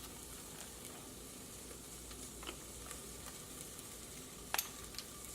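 Meat and vegetables sizzle in a pan while cooking for chili, a faint, steady frying hiss with a few light clicks over it.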